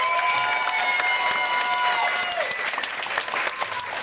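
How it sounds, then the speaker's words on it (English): Convention audience at Dragon*Con 2009 bursts into applause with some cheering, a dense steady roar of many hands clapping from a large crowd, with no talking over it. "Please give him a round of applause."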